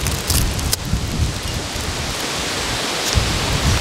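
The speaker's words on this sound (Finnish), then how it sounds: "Täällä on aika kova myrsky" Heavy storm rain pours down in a dense, steady roar outdoors during a fly-fishing trip, loud and close, with a few sharper gusts and impacts.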